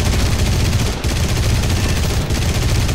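Aircraft machine-gun fire in War Thunder: dense, rapid automatic bursts from a plane, loud and close over engine roar, with two brief pauses between bursts.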